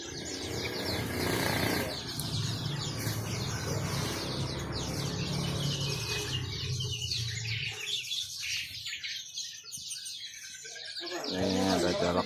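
Songbirds chirp and tweet continuously at a busy bird market in Palmerah, with dense overlapping calls close by and some wing flutters, while market chatter runs underneath.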